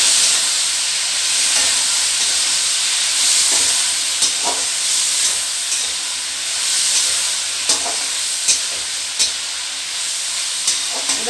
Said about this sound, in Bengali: এইবার আমি ঝিঙেগুলো দেব